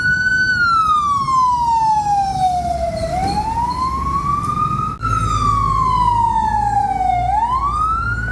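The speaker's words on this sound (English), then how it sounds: "it sounds like the fire trucks are heading out" Fire truck sirens wail on a Bangkok street between Sukhumvit Soi 26 and Soi 22, loud rising and falling tones sweeping slowly in two long cycles over steady traffic rumble.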